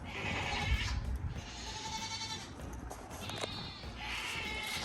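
Several hungry goats bleat in overlapping, drawn-out cries, fairly close, one after another over a quiet outdoor background.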